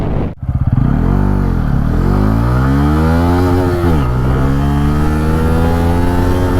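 Bajaj Pulsar N160 SS motorcycle engine revving hard at high RPM while being ridden, a loud steady drone rising and falling in pitch through gear changes, with no talk.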